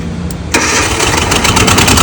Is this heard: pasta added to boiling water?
no